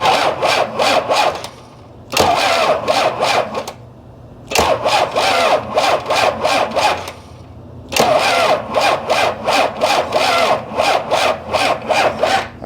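Starter cranking over the diesel engine of an abandoned 1993 Dodge Ram Cummins, three long bursts of rhythmic, laboring chugging with short pauses between, loud and close without catching.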